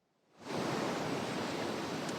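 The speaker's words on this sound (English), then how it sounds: "you can see that the waves are starting to crash on that." Rough ocean surf crashes steadily on the North Carolina shore near coastal homes, a loud, continuous roar of breaking waves that swells in over the first half second and then holds, with no voices.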